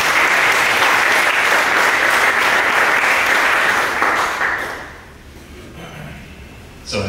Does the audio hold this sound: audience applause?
yes